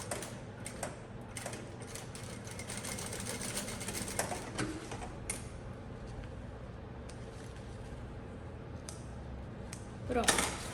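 A sewing machine stitches the bottom seam of a backpack in continuous close whirring, with a brief louder flurry near the end and a voice speaking over it at times.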